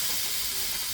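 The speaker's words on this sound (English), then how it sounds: "I don't know if you can hear it sizzling." Chicken tenders sizzle on a grill heated to 500 degrees, a brief, soft, steady hiss with no talking.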